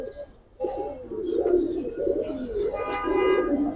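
Grizzle and Giribaz pigeons coo close by in repeated throaty, rolling calls that run almost without pause, with no talk over them.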